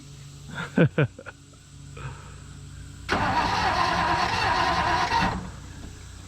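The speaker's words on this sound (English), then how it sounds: "will she crank? First start in 6 days." A 1965 Ford Falcon engine, first start in six days, cranks with a few sharp bursts, then roars into a loud, steady run for about two seconds before cutting off. Recorded up close, with no talk over it.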